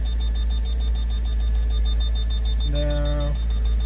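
A Porsche Boxster in reverse gives a short beeping tone near the end, a brief stacked chime over a steady low engine idle hum, with a faint high whine throughout.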